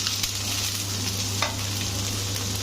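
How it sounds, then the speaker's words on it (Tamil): Loud, close sizzling and crackling as chopped onions, garlic and curry leaves fry in hot oil, with occasional stirring scrapes and no speech. "பிறகு நறுக்கின வெங்காயம் பூண்டு பத்து கல் கருவேப்பிலை போட்டு வதக்கணும்"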